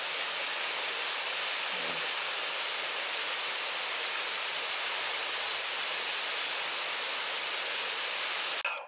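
A shallow stream runs with low water outdoors, giving a continuous even hiss and wash that stays at a steady level throughout, with no one speaking.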